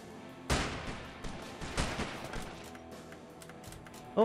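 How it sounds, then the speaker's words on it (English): Video game shotgun fires a sharp close blast, followed by a few quieter thuds and impacts, with another abrupt hit at the very end. "pick up the shotgun. We're going shotgun again."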